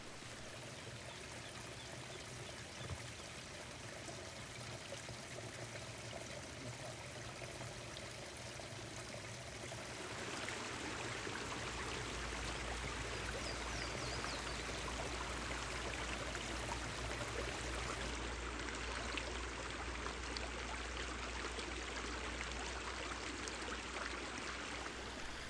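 Small high-altitude mountain streams in the Smokies flow and trickle continuously, a soft steady burble that grows somewhat fuller partway through, with no voices.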